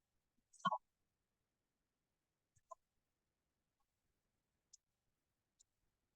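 A Geiger counter measuring beta radiation gives sparse, irregular clicks in near silence: a brief cluster at first, then single sharp ticks spaced a second or more apart.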